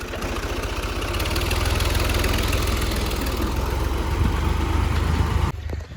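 A Russian tractor hitched to a 13-disc plough idles close by, its engine a steady low rumble with a fast regular knock that cuts off abruptly near the end.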